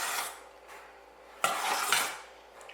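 A spoon or spatula scrapes chicken pot pie dough mixture down from the sides of a mixing bowl in a few short, rough strokes, close and fairly quiet.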